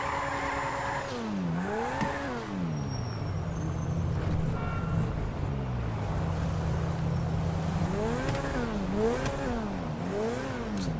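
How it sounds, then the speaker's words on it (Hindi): A Lamborghini Aventador in GTA V revs and whines while doing donuts on a beach road, its engine pitch sweeping up and down in repeated waves, loud and close. "सो अब एक काम करते हैं लगाते हैं जबरदस्त वाले डोनट्स बीच रोड पे।"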